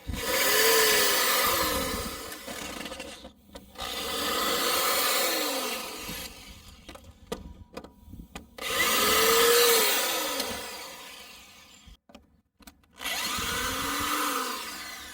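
Ryobi cordless power drill backing screws out of the hinges on a wooden fence, running in several sustained bursts of a few seconds each with short pauses between, close and fairly loud.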